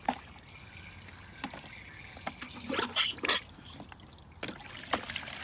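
Water from a Tofino flush trickles and drains out in irregular splashes and drips, close and moderately loud, rising and falling over a steady faint background.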